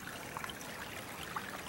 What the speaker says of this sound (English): And little waterfalls like this.